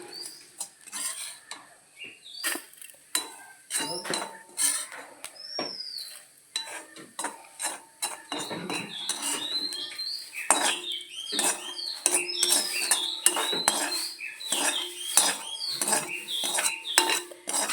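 Roasted coconut is scraped and lifted out of a pan with metal utensils while cooking a village-style roasted-coconut chicken curry. Repeated close clinks and scrapes come in irregular bursts, with birds chirping faintly in the background.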